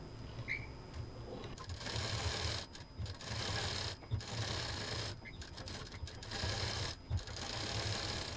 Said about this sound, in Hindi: यहाँ से यहाँ इसको पूरा किनारे से सिल देंगे